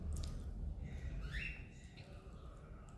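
A baby cockatiel in an aviary gives a short, faint squawk amid low background rumble and soft noise, the call rising briefly near the middle.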